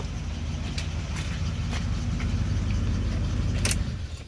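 A 30-year-old car engine runs at a steady low idle, a continuous rumbling hum close by with a few faint clicks and jingles over it, no talking.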